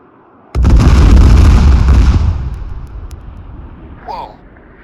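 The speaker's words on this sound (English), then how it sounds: "that cluster bomb was a bit danger close" A cluster bomb detonates close by in the Arma 3 video game, a sudden loud deep blast that rumbles and slowly fades over a couple of seconds, followed by a faint short voice.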